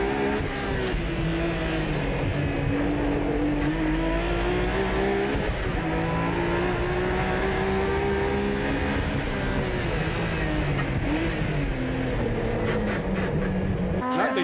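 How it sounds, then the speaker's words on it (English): Mines Nissan GTR race car driving on the Tsukuba circuit, a loud sustained engine drone with rising and falling revs through gear changes, close and continuous without speech. "The Mines GTR is the defending champion. The car hasn't run on the Tsukuba circuit for a while now."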